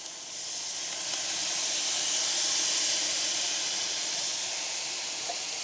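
Fajita mix sizzling hard in a pan at a creekside campsite, a loud, steady, close hiss that swells in the first second and then holds without letting up.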